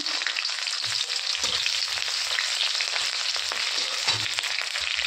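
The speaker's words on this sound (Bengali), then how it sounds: "তো এখন আমি এখানে দিয়ে দেবো পেঁয়াজ, কিছুটা পেঁয়াজ কুচি নিয়েছি।" Chopped onions hit hot oil that already holds whole spices and bay leaf, setting off a steady, loud sizzle that runs unbroken throughout. A few soft stirring scrapes surface now and then.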